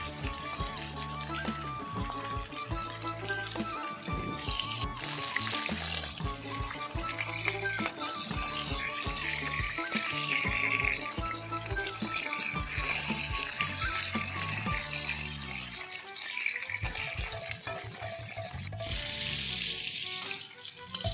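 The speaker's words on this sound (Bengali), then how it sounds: "সেম তেলের মধ্যে যে মাছগুলোকে নুন হলুদ মাখিয়ে রেখে দেওয়া হয়েছিল সেগুলোকে এবার ভেজে নেওয়া হচ্ছে" Katla fish pieces rubbed with salt and turmeric fry in oil, giving a continuous sizzle that runs under tonal background music for the whole stretch.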